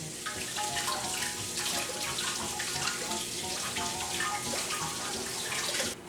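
Potatoes being washed under a running kitchen tap, a steady close rush and splash of water that continues unbroken with no talking.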